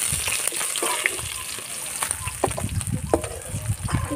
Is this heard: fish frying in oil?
yes